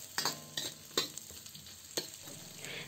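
Onion, garlic and lemongrass sauté in a pan, with a quiet, steady sizzle broken by four or five sharp scraping stirs of a utensil against the pan, close up and with no talk.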